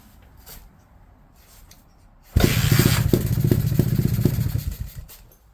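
A 2000 GasGas TXT280 trials dirtbike engine suddenly catches and runs loudly for a couple of seconds with a rough, popping idle, then fades as it dies down.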